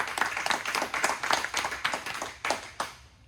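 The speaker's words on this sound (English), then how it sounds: "Let's give them a round of applause first." An audience applauds at a 2023 Service Above Self celebration honoring past presidents, a steady run of close hand claps lasting about three seconds before fading out.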